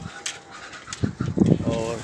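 Pigeons coo at close range in a loft during the monsoon season, several throaty bursts rising near the end, with a voice speaking intermittently over them.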